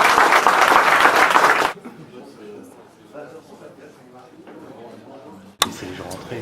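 Audience applause at a public event with Agnès Varda, a loud, dense burst of clapping for under two seconds that stops abruptly, followed by quieter murmuring voices and a brief sharp knock near the end.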